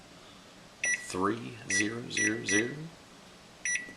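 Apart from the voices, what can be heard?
kitchen timer beeping as it is set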